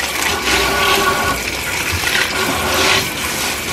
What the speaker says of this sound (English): Alright, now we're going to rinse them off.